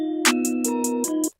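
Programmed beat built in FL Studio with a sustained melodic tone and a steady run of bright, evenly spaced hits that briefly thins and returns, ending abruptly.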